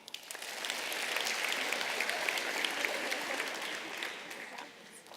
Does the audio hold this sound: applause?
yes